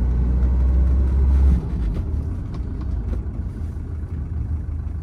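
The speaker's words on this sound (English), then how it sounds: "Really, really nice running and driving car." A 1983 Mercedes-Benz 240D diesel with a four-speed manual drives along, its engine a steady low rumble that is loud at first, then drops to a softer running drone.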